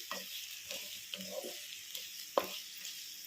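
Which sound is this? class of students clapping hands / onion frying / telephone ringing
onion frying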